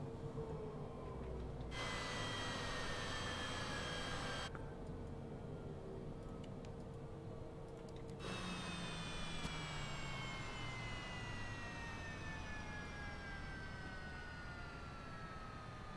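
Cessna Citation CJ4 business jet engines in Microsoft Flight Simulator 2020, a steady whining turbine tone with rising and falling harmonic sweeps over a continuous broadband rumble, with no talk.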